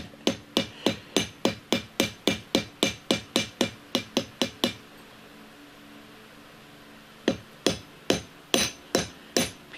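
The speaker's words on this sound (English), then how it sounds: "reshape some of these cast pewter pieces" Cast pewter pieces hammered into shape by hand, a fast steady run of about twenty sharp metallic strikes, a pause of nearly three seconds, then six more blows, close and loud.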